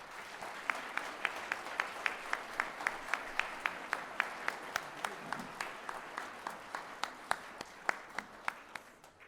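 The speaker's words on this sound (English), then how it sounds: "if you guys would help me applauding for the 7th and 8th grade band" Audience applause for a 7th and 8th grade band at a winter band concert: a sparse, soft crowd clapping with a few sharp, distinct nearby claps standing out in a regular rhythm.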